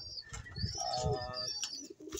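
Pigeons coo close by in soft low throaty bursts, with faint chirps and a brief rustle of wings in the background.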